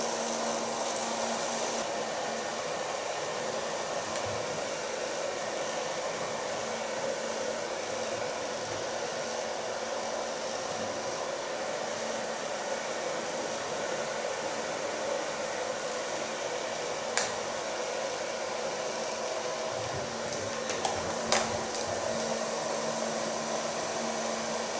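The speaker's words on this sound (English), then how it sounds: "So far blow drying." A hair dryer blows steadily on hair at a salon during a neon hair colouring and undercut session, a constant moderate whooshing hum lasting throughout with a few faint clicks and no speech.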